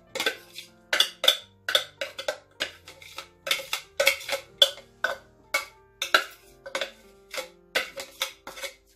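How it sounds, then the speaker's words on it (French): A utensil works stuffing into minced meat in a bowl, giving a steady rhythmic series of soft close scraping knocks against the bowl, about two per second, with no talking. "je mets la farce avec la viande hachée. Et ensuite, je mélange le tout."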